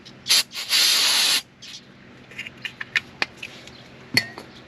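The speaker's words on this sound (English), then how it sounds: "Now we're actually spray with a little brake clean." Two quick hissing bursts of brake cleaner aerosol spray on a car, the second longer and steady, followed by light clicks and taps of handling.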